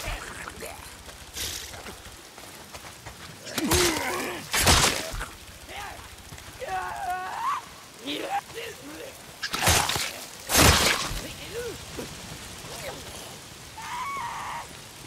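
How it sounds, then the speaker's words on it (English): Steady rain falls in the post-apocalyptic open-world game Days Gone, a constant wet hiss broken by several loud sharp crashes and bursts and some voice-like sounds from the game. "It's not the freaks, it's the goddamn rain. Why is it always raining?"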